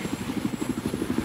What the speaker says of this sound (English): I wonder if their helicopter spawned in